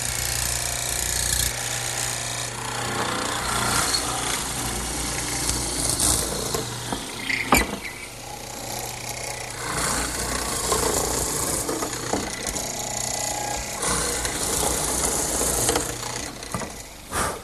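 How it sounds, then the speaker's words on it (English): A benchtop mortiser fitted with a half-inch chisel cuts mortises in a wooden rail for a coffee table, its motor running continuously with repeated plunging, chopping and knocking strokes and one sharp crack partway through. "I've set up my mortiser with a 1/2-inch chisel, and to the depth I want."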